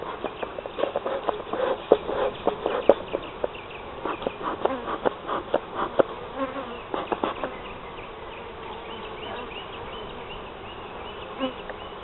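Honeybees buzz steadily around an opened beehive during an inspection, a close, continuous insect drone with brief louder passes as bees fly near, no talking.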